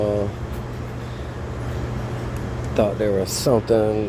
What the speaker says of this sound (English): It's just a valve making a bunch of noise.